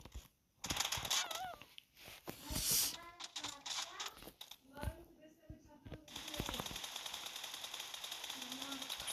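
Gunfire in a video game comes in short irregular bursts and single shots under a man's speech, with game effects around it and a steady background hiss at the end.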